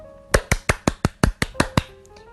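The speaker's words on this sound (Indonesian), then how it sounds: "aku tepuk tangan dulu" Nine sharp hand claps in a quick, fairly even rhythm, close and crisp, made by one person clapping alone with no talk over them.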